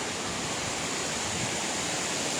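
Tufa waterfall at Baume-les-Messieurs in the Jura, a steady close roar of falling water pouring over stone basins, loud, unbroken and alone for the whole stretch.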